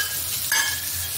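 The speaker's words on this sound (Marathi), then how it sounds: "मोहरी चांगली तडतडली की थोडं हिंग घालायचं, जिरे, आलं लसूण पेस्ट," Mustard seeds, asafoetida, cumin and ginger-garlic paste sizzle in hot oil for a Marathi cabbage masala, a brief close crackling fry with a small burst partway through.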